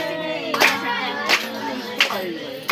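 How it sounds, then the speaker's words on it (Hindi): A few sharp claps ring out during a Ram Katha religious discourse, three separate bursts spaced about a second apart over a steady chanting voice. "ताली बजा"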